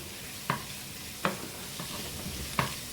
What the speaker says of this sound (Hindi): लहसुन अदरक का पेस्ट लाइट सा हमने इसको सौटे कर लेना है।